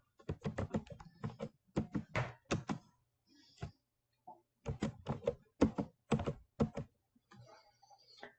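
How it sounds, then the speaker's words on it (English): Keys clatter on a computer keyboard in quick close bursts as a label is typed into a spreadsheet, with short pauses between runs of keystrokes and no talking. "And so I'm going to type in total sales."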